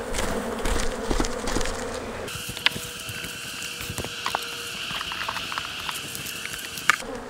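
Honey bees buzz steadily around hive frames being worked during a supersedure combine, a continuous close insect drone with a few light knocks and no talking.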